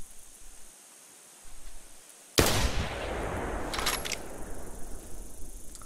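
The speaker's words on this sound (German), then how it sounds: "Wann knallt die Waffe so?" A single sharp, loud rifle gunshot from the hunting video game theHunter Classic bursts out of near silence, followed by a long rumbling tail of echo and a few faint clicks, with no voices.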